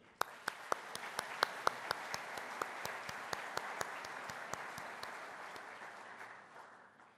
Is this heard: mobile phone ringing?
no